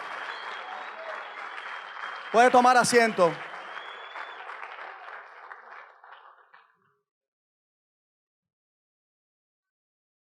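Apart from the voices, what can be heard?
church congregation applause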